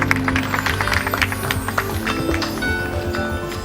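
An audience at the 2016 Baekbeom art and writing contest claps together, a dense run of sharp hand claps that holds fairly loud and steady for several seconds.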